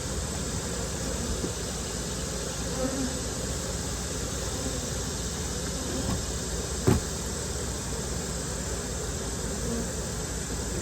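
Honeybees drone in a steady, dense hum while brood frames of a nuc hive are lifted and separated during an inspection, with a single sharp knock partway through.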